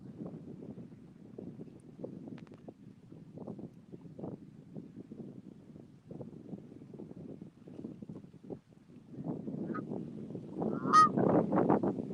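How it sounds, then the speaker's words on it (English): A flock of geese honks repeatedly in the distance, a steady chorus of nasal calls that grows louder toward the end, with wind in the background. "And we have some geese over there."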